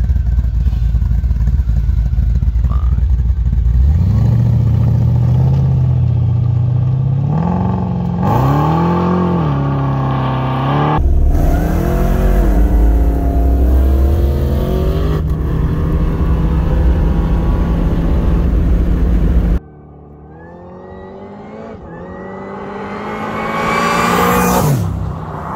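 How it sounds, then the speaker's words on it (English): Two Holden Commodores, a VL Turbo Calais and a VF Clubsport, race side by side from a rolling start on a damp track, engines rising and falling through repeated loud accelerations and gear changes, with a final rising rev close by. "we thought we'd race the VL versus the VF to see what 30 years of technology difference looks like"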